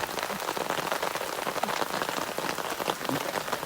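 Rain patters densely and steadily on a camera during a beach walk in North Naples, Florida, close, crackling drops striking the housing and flip button without a break.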